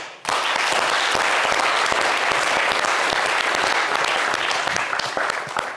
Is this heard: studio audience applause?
yes